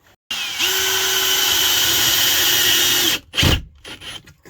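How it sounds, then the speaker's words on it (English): Power drill driving deck screws during a faucet plumbing install with Shark Bite fittings: one sustained loud whir close by for about three seconds, ending in a short thump and clatter. "And let's get some screws in that."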